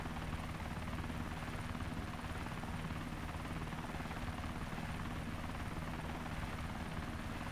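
An MV-22 Osprey tiltrotor flying in the video game DayZ, a steady, droning rotor and engine hum with a constant buzzing whine, unchanging throughout and with no talk.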